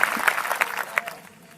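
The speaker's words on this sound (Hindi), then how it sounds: "इनके लिए ताली बजा दीजिए।" An audience at a Christian religious gathering in India claps in a short burst of applause, fairly close, with scattered sharper claps that fade out toward the end.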